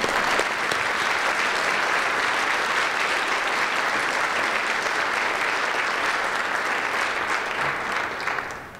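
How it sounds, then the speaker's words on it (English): A general assembly audience at Emporia State gives sustained applause, a thick, continuous wash of many hands clapping at a steady level that dips slightly only in the final moment. "So if you would, give my wife a round of applause."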